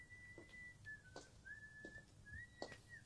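Someone whistles a slow melody, notes gliding and held, fairly quiet, with faint clicks and knocks in the background.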